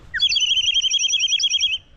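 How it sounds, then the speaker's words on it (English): A high, bubbling warble from a water-filled clay whistle trills rapidly for under two seconds, loud and close, then stops. "This is if you fill up water in this and if you whistle,"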